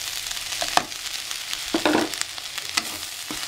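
Ingredients for flattened rice kichidi sautéing in a pan, a soft continuous sizzle broken by several sharp scraping stirs of a spoon against the pan, close up and fairly quiet.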